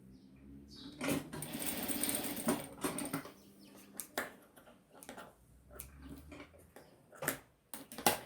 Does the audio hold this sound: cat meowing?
no